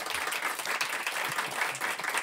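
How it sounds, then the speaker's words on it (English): Audience applauding panelists after a talk on racism in film, steady dense clapping filling the room throughout, fairly close and even in loudness. "Please give them a round of applause."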